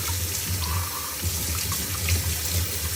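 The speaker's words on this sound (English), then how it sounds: "Run a little bit of water once in a while through there." Tap water runs steadily through a sink drain pipe, a constant close gurgling rush of flowing water with no voices.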